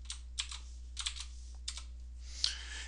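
Keys on a computer keyboard are pressed in short, quiet bursts of clicks with brief pauses between groups, entering a plot command in Octave; no one talks.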